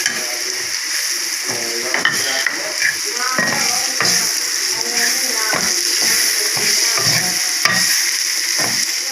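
Capsicum and chicken spaghetti ingredients sizzle steadily in a pan while a spoon scrapes and stirs in repeated strokes, with a person talking over the cooking.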